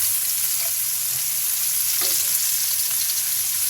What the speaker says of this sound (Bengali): তো সুন্দর ভেজে আসছে